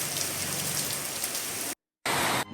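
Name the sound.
rain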